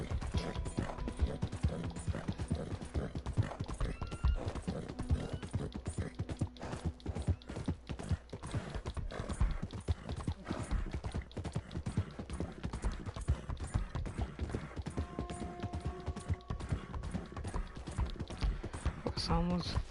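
Horse hooves clip-clopping in Red Dead Redemption 2 as a horse struggles uphill, a fast, uneven run of close thuds with a brief whinny near the end.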